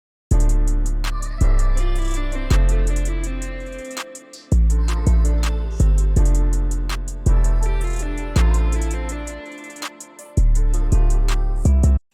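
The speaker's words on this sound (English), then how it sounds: "And I drew out this pattern using the 808." A simple pattern of 808 bass notes programmed in FL Studio, with deep booming hits at shifting pitches and a few short gaps, playing alone in a steady beat-like rhythm.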